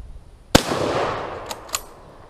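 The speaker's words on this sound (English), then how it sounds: "I'll just hip fire this thing and do as much destruction as I feel like" A single sharp report from a Turk Mauser rifle fired from the hip, one loud crack followed by a decaying echo, then two fainter distant pops from other shots further off.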